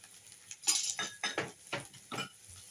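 A spoon stirs soaked thick poha in a metal bowl or pan, about six scraping, clinking strokes in an even rhythm, close and fairly quiet.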